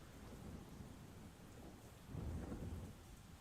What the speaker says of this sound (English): I can hear it raining outside.